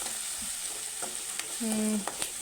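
Crushed garlic frying and being stirred in a pan for an egg curry, a close, steady sizzle broken by brief spoon scrapes and a short metallic clink near the end, no voices.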